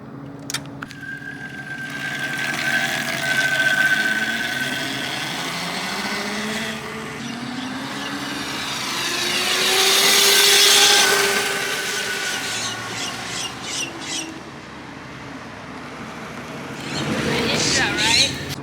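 A homemade street-legal electric motorcycle rides down a sunny street, its electric motor whine rising and fading as it passes by and returns. People talk under and around the motor sound.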